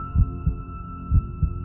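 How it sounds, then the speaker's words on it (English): A pounding heartbeat sound effect under a droning hum, with two pairs of deep, close thumps in a lub-dub rhythm. "Lonnie awoke with a start, his heart pounding in his chest."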